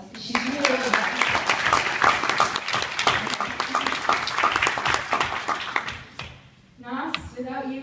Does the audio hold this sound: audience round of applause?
yes